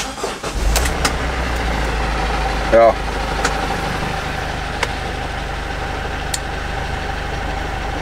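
An old emergency doctor's vehicle with a 130 hp engine is started after glow-plug preheating. It cranks briefly, catches and settles into a loud, steady close idle, with a short spoken word early on.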